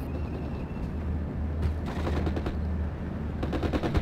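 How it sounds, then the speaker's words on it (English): Rifles and a Bren light machine gun fire in a Steel Division: Normandy 44 battle, with rapid bursts and scattered shots over a low rumbling battlefield drone, moderately distant. "Fallschirmjägers taking some substantial losses from the rifles and the Bren group."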